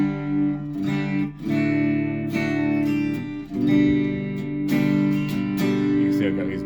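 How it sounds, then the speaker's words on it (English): Electric guitar with a hot Tom Anderson bridge pickup played through a Spark amp, ringing out sustained chords and riffs with sharp picked attacks, loud and close, with no talk. "that's the sound of my Spark amp"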